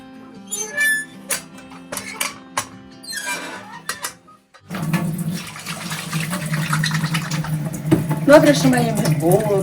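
Water runs steadily from a well-fed tap fed by spring water piped from a distant mountain. A voice is heard first, then a loud, continuous rushing stream takes over for the rest of the clip.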